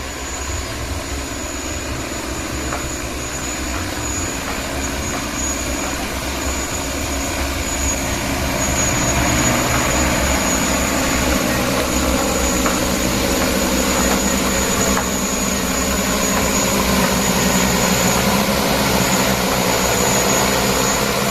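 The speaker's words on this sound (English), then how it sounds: "Drone is moving forward." An agricultural spraying drone flies over a two-hectare horticultural plantation, its rotors giving a loud, steady droning whine that holds for the whole stretch and swells slightly partway through, with no talk.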